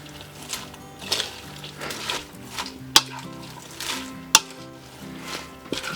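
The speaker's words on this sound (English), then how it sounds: "So now we just give it a stir." Coleslaw of shredded cabbage in vinegar dressing is stirred in a bowl, giving soft rustling scrapes and a few sharp clinks of a utensil against the bowl over quiet background music.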